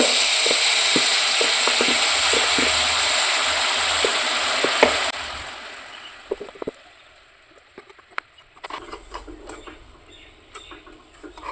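Grated coconut and flattened rice fry in a pan with a loud, even sizzle and scraping spatula strokes for about five seconds. The frying then fades to near quiet, broken by scattered clinks and stirring taps.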